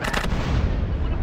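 Gunfire in Grand Theft Auto: San Andreas on Xbox 360, a loud, dense burst of booming shots that fills the moment with no talking.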